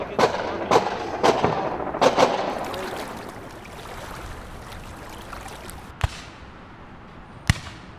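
Soldiers fire guns at Japanese troops in a battle film, sharp shots cracking out singly and in quick pairs, loud at first and then more spaced out over a rushing background wash.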